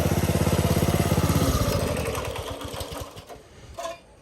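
A Subaru 7 horsepower engine on a stretched Doodle Bug minibike chugs with a rapid, even pulsing beat, loud and close at first, then slows and fades into uneven sputters near the end.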